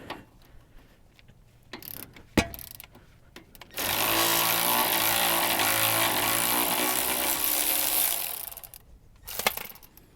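A bolt holding the speed sensor bracket is worked loose on a 1992–2000 GM 4WD K truck: a few scattered metallic clicks, then a loud, steady power-tool run of about four seconds, followed by a short burst.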